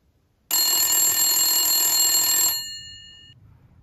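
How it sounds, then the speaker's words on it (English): A telephone ringing on an outgoing call: one steady, bright electronic tone sounds alone for about two seconds, then cuts off and fades into quiet. "Okay, I'm calling Bill"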